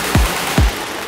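Fireworks over the Chao Phraya river at a 2023 countdown celebration, two deep booming bursts about half a second apart, heavy and rumbling over a dense, hissing crowd-like background.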